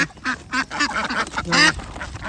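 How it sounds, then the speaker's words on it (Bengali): Ducks quacking close by in a short burst of repeated calls, with a louder honking call near the end in a rural outdoor setting. "হাঁস"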